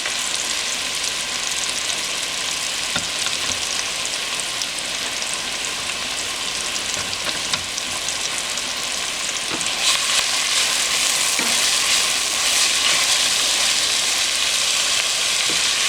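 Vegetables for butternut squash soup, salted to draw out moisture, cook in a pot over low to medium-low heat with a steady, dense sizzle and hiss. Faint clicks and stirring sounds come through, close up and with no talking.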